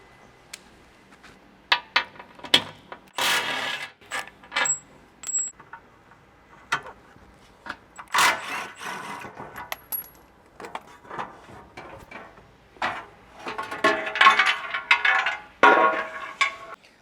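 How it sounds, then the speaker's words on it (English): Metal bolts being removed and a TRD skid plate dropping from under a 2014-2024 Toyota 4Runner, with a series of sharp metallic clinks and clatters, some loud bursts, scattered over the whole stretch with no talking. "But go ahead, take those 4 bolts out and drop that down."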